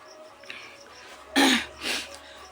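A woman coughs and clears her throat twice in quick succession, close and fairly loud, against a quiet indoor background.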